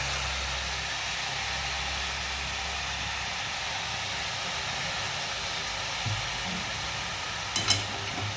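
Chopped green onion greens are stirred in a hot pan with turmeric and chili powder, making a continuous loud hiss and sizzle with a few soft scrapes near the end.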